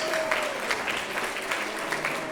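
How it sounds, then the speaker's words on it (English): Audience applauding the judges at a community award event, a short burst of steady clapping from a modest crowd indoors, close and moderately loud. "Let's applaud our judges for doing this."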